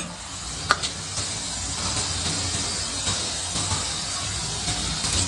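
Mustard seeds, urad dal and cumin seeds sizzle in hot oil in a pan, a steady close hiss with a few faint pops and crackles over the seconds.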